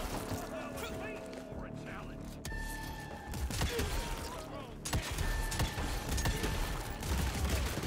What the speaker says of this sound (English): You might have to shoot one of those barrels, Tim.